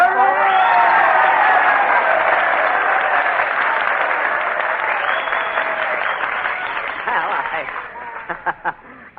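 A nightclub audience at a New Year's Eve party at the Biltmore Bowl claps loudly for Jack Benny. The applause is sustained and dense, then thins into scattered claps near the end.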